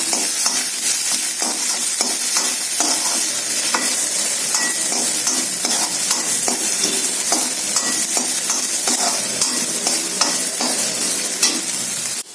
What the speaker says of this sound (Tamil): பொடியாக நறுக்கின சின்ன வெங்காயத்தை போட்டுடலாம். கொஞ்சம் நல்லா வதக்கி விடலாம்.